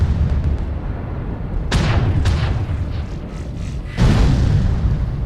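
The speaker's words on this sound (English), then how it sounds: "Look at all these artillery strikes." Artillery strikes explode in a video game battle involving mechs: several heavy booms, each a sharp broad blast, land at uneven intervals over a continuous deep rumble. No voices.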